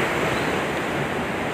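A steady, broad rush of rainy-season floodwater surging in beneath a tall pillared structure, loud and continuous with no break, no voices over it.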